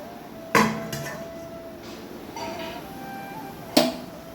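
Metal pot lids set onto cooking pots in a home kitchen, two sharp clanks about three seconds apart with lighter clinks between, close and clear with no talk.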